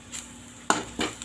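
Sundakkai sautéing in oil in a pan, with a spoon giving a couple of quick scraping stirs against the metal over a faint, low sizzle.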